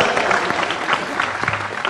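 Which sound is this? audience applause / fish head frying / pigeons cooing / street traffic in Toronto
audience applause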